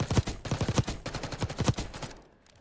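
Rapid gunfire from a video game played on a PlayStation 5 controller, a quick run of a dozen or so sharp, close shots that stop abruptly at the end.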